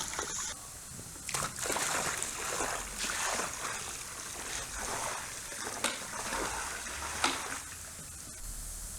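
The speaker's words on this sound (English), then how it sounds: "Mix that up a little bit, pour it in around the perimeter of the pool." Soda ash mixed with water being poured around the perimeter of a swimming pool, a steady close splashing and sloshing with a few sharper splats, no talking.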